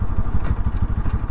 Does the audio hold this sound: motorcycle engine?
yes